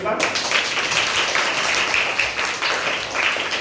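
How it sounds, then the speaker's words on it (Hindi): Children clapping together in a classroom, a dense, steady patter of many small hands that carries on evenly throughout, fairly loud and close, with no talking over it. "बहुत शाबाश, ताली बजा दो"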